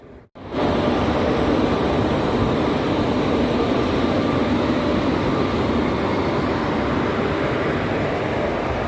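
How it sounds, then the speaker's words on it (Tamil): A passenger train rolls into a crowded station near Acharapakkam, Tamil Nadu, a steady loud rumble and rail roar that starts abruptly and holds close and continuous throughout. "நம்ம ட்ரெயின் வந்துடுச்சு"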